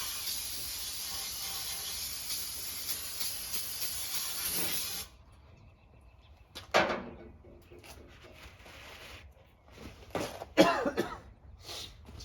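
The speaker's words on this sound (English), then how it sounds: "Sorry about the coughing." Several harsh coughs come in scattered bursts, close and fairly loud, after a long steady spray hiss stops abruptly, with quiet gaps between the coughs.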